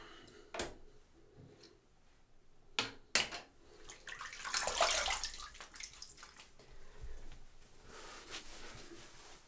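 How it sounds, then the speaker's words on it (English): Running water splashes from a tap while someone rinses after shaving at a sink, with intermittent knocks and clatters, a swelling splash in the middle, then a steady softer flow. "let's have a rinse"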